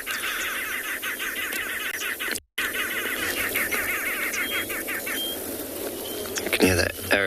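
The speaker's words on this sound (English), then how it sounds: "You can hear that arrow mark babblers in the background." Arrow-marked babblers call during a morning safari in South Africa, a busy run of repeated chattering notes in the distance over a steady background hum, with a brief dropout partway through.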